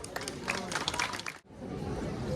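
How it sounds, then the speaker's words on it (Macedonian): Audience applause at a children's folk festival in the western region of Macedonia, a short burst of scattered clapping from a crowd that briefly dips and then continues as a softer, distant patter. "Да ги поздравиме со еден силен аплауз."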